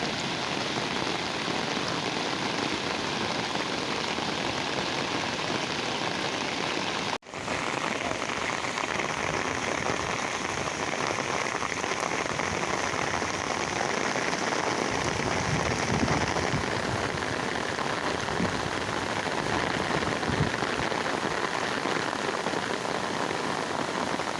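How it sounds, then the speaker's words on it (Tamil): Steady rain pours down continuously, a dense hiss of drops hitting surfaces, with no voices; a brief dropout interrupts it once. "இன்றைக்கும் மழை பெஞ்சிட்டு இருக்கு"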